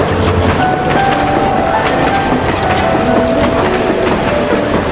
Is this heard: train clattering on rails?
yes